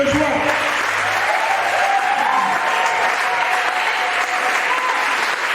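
A church congregation applauds and cheers steadily throughout, a dense, loud wash of clapping with voices woven in, under a French-language sermon setting.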